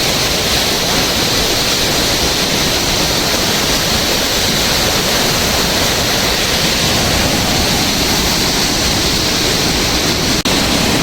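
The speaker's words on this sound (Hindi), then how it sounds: "अब मैं आपको दिखाता हूँ कि डैम के फाटक में से जब पानी बाहर आता है तो वो कितने वेग से बाहर आता है" Water roars out of an open dam gate on the Ganga at Haridwar during heavy rain, a loud, continuous rushing wall of noise that stays unbroken and close throughout.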